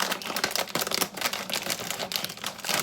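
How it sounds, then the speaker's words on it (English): A bag of Cheez-It Crunch Zesty Jalapeño Cheddar crackers torn open by hand, with a close run of sharp crinkling and ripping bursts in an uneven, rapid rhythm. "So let's try to open these now."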